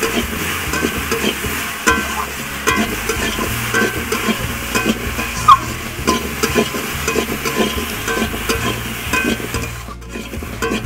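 Turmeric powder frying in oil in a pan while being stirred, a steady close sizzle with repeated scraping and clinking strokes of the spoon against the pan throughout.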